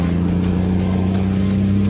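KAMAZ Dakar rally trucks with engines of roughly 1000 horsepower pull in as a deep, steady diesel drone with a strong low hum, loud and close, holding level without speech over it.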